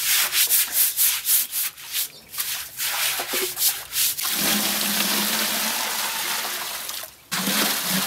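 Brisk back-and-forth scrubbing strokes rasp against the hard surface of a fountain basin, then settle into a steady rubbing hiss.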